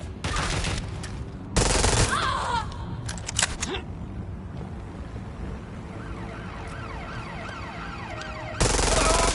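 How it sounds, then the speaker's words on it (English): Gunfire during a police pursuit in the video game Watch Dogs, loud bursts of rapid shots at the start, middle and end, with sirens wailing in between. "Incoming fire!"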